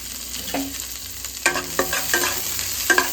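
Chopped onion and cabbage fry in a hot kadai with a steady sizzle, joined by several sharp scrapes and knocks of a spatula stirring against the pan, with no talking.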